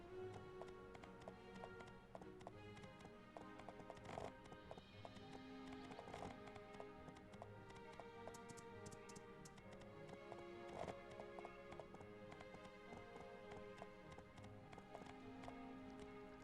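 Horse hooves gallop in the farming game My Time at Portia, a steady, rapid clip-clop rhythm running the whole time alongside game music, with no talking.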